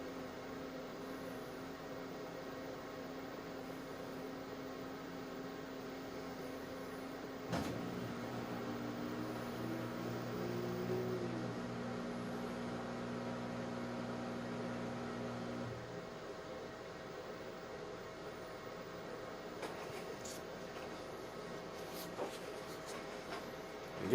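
An LG WM3770 washing machine stuck while trying to go into spin gives a steady low mechanical hum, with a sharp clunk partway through that sets off a few seconds of rising motor whine, then a return to even droning.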